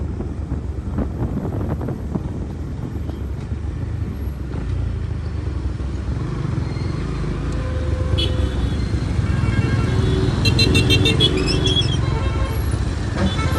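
A motorcycle ride through road traffic, with close wind buffeting over a steady engine and road rumble, passing vehicles and a few faint high beeps toward the end.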